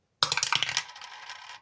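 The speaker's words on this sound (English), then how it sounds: "And let's roll our dice." Dice roll and clatter across a hard surface for a moment, a quick run of sharp close rattles that fade into a brief scraping tail, with no talk.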